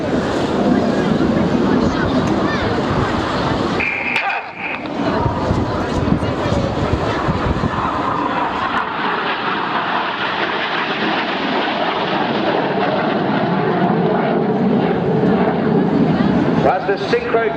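A display jet from an aerobatic team roars loudly and continuously over the coastline at the Eastbourne airshow. A commentator talks over the engine noise.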